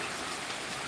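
Steady rain pours down, a dense even hiss of drops hitting surfaces, with no voices.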